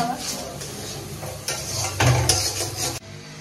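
Stirring and frying dosa masala in a pan, a steady close sizzle with spoon scrapes and knocks against the pan, ending abruptly.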